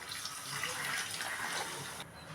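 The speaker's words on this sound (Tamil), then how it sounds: "தேவையான அளவு தண்ணி விட்டுப்போம்" A steady rush of water pouring into a pot, continuous and fairly even, close by, easing slightly near the end.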